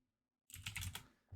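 Quick, close bursts of typing on a computer keyboard rattle for about a second after a brief silence, followed by one short extra cluster of keystrokes, quiet overall.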